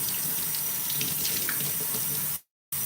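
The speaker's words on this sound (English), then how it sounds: "I'm gonna rinse out my shampoo now." Tap water runs steadily into a sink or basin while shampoo is rinsed out, giving a loud continuous splashing rush that cuts off abruptly near the end.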